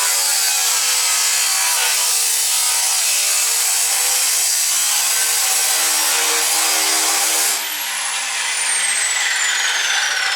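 A power tool cuts steadily through the body of a white Sierra pickup, a loud continuous grinding rasp that shifts pitch and eases slightly near the end.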